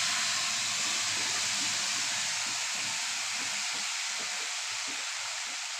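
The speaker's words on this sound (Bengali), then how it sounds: "এবারে গ্যাসের ফ্লেমটাকে আস্তে করে এর মধ্যে সর্ষে বাটাটা দিয়ে দেব।" Mustard paste sizzles in hot oil in a pan over a lowered gas flame, with nigella seeds already tempered, making a steady broadband hiss with faint crackles throughout, alone and without talk.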